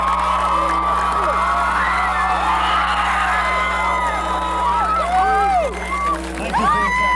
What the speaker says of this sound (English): How about one final round of applause for the class of '94?